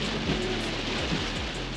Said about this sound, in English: I haven't driven through rain like this since camping.